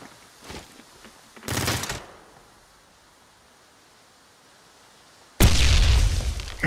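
Grenade blast in the shooter game Ring of Elysium: a short noisy burst, a lull of quiet, then a loud, sudden explosion with a broad roaring wash that continues to the end.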